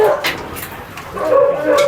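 Adopted dogs at an animal rescue property whimper and give short yips and barks close by, their high whining rising toward the end, with faint voices in the background.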